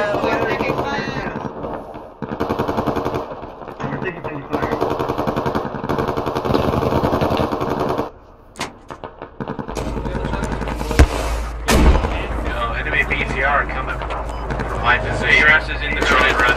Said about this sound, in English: Now we're taking fire.